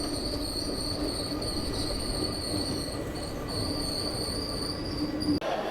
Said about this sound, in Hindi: वडोदरा जंक्शन के प्लेटफॉर्म नंबर 1 पे अपना अराइवल जो है वो हो रहा है